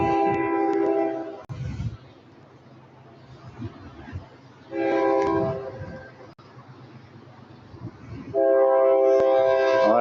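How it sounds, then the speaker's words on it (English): A train horn sounds three long, loud blasts separated by pauses, with rumbling wheels and rail noise continuing underneath between them. "I swear the train got louder."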